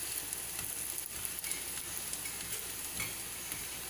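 Thalipeeth frying in oil in a pan, a steady close sizzle with faint crackles and light stirring noises, no voices.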